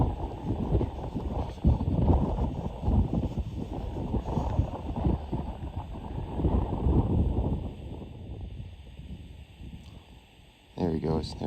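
Cold November wind during a mule deer hunt in British Columbia buffets the microphone with a low, rumbling roar that swells and eases in gusts, with quiet voices now and then.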